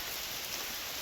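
Heavy rain pours down in a dense, unbroken hiss that fills the whole moment at a steady, fairly loud level.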